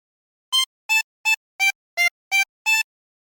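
Seven short, evenly spaced reedy notes from a 20-hole tremolo harmonica playing a phrase of the Squid Game theme, close and clear with silence between notes.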